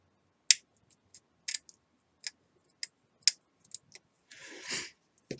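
Scissors trimming excess material off the rotor blades of an Apogee Components Gyro Chaser model rocket: a series of crisp, close snips at irregular intervals, finishing with a longer rasping cut, with no talk.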